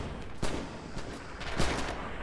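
Artillery fire in the Red Orchestra 2 battle on the Bridges of Druzhina map, several muffled, booming blasts at irregular intervals over a constant rumbling battlefield background, fairly distant and moderately loud.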